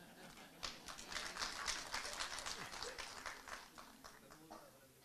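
An audience bursts into a steady round of applause that holds for several seconds and then thins out, heard faintly in a hall while someone speaks over it.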